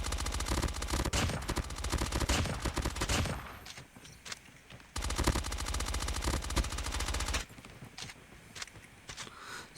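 Bursts of rapid automatic gunfire from an MX9 in ranked shooter gameplay, two long sustained volleys separated by brief quieter gaps with faint clicks and footsteps.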